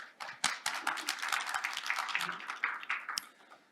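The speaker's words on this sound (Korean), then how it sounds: "큰 박수로 환영해 주시기 바랍니다." The audience at a Korean energy policy forum claps to welcome a panelist, a loose patter of individual hands that builds quickly, holds for a few seconds, then fades out.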